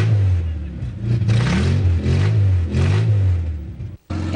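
A lowered turbo car with a 450-horsepower engine and nitrogen cylinders revs loudly and steadily at a car show, its deep rumble rising and falling in repeated surges with a brief cut near the end.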